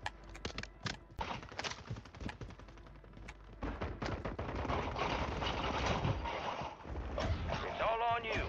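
Rapid video game gunfire crackles in dense bursts, near and loud, building into sustained shooting toward the end, with voices talking over parts of it.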